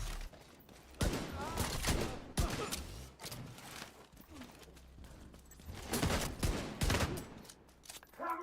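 Rapid bursts of hand cannon gunfire in The Division 2, loud repeated shots in clusters with a steady game background, some dense volleys overlapping.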